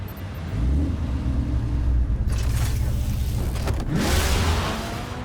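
A low engine hum runs throughout while whirring, shifting mechanical sounds swell and sweep as a car transforms in Batman: The Telltale Series.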